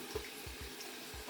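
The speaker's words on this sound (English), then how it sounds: "I'm just going to put it under running water just to get that bleach off." Tap water runs steadily into a sink while bleached wig lace is rinsed beneath it, a faint, continuous close splashing with soft irregular pulses and no talking.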